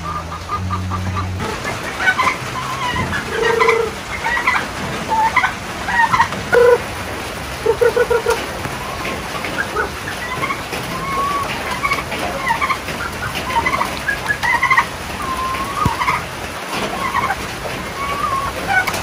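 Heritage chickens clucking in a backyard pen in General Santos, with repeated close, busy clucks and squawks from several birds over steady outdoor background noise.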